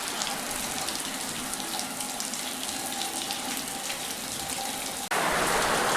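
Heavy rain falls in a village during a windstorm, a steady close wash of pattering water that abruptly grows louder and harsher near the end.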